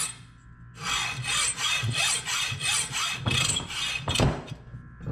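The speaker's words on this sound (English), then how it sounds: "I just saw it off with a hacksaw" Rhythmic back-and-forth strokes of a hacksaw cutting through a carbon steel pin for a marking gauge, about eight rasping passes, close and loud, with no talking.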